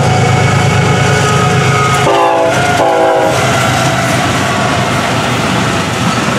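Florida East Coast Railway freight train FEC101 rumbling past close by, loud and steady, with two short blasts of a train horn sounding in the middle.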